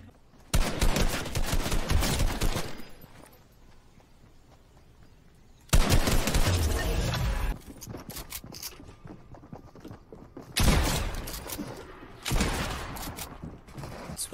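Bursts of rapid gunfire from a Fortnite Chapter 2 squad match, loud dense volleys separated by quieter gaps, with a second heavy exchange of shots midway and more firing near the end.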